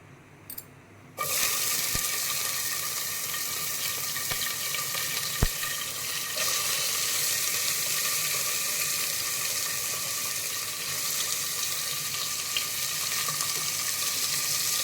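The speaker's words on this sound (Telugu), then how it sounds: "ఇందులో టమాటాలు, ఎర్రగడ్డలు, కరివేపాకు వేసి బాగా వేగనిద్దాం." Onions, tomatoes and curry leaves fry in hot oil after a quiet second, a steady loud broadband sizzle that holds without pause, with a couple of faint clicks of utensil contact and no talking.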